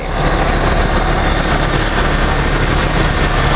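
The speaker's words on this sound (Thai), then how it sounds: "ตอนน้ำยาเข้าไปเครื่องจะเริ่มสั่นนะครับสั่นแล้วก็เนี่ยสัพักก็จะเริ่มเรียบ" A car engine runs steadily and loudly during fuel injector cleaning after a gas filter change, a constant rough mechanical drone with no pauses and no voices.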